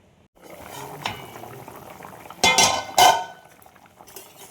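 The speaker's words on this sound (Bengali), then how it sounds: "দেখো ঝোলটা ফুটে গেছে" Fish curry broth for tengra fish bubbling under a lid on the stove: a soft, continuous simmering hiss broken by a few louder metallic clatters and bursts, close by with no voices.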